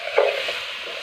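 Chicken sautéed and stirred in a pan over a wood-fired stove, a brief burst of close sizzling with a single scrape of the stirring utensil, no speech.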